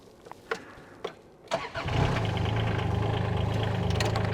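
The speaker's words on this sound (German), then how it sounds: "jetzt starte ich mal die Engine" A few faint clicks and knocks, then a mini excavator's three-cylinder Kubota diesel engine cranks, catches and settles into a steady, loud, rumbling idle close by.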